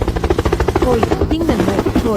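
A helicopter-like aircraft arrives overhead with a loud, steady rhythmic rotor thump, while people call out to each other over the noise.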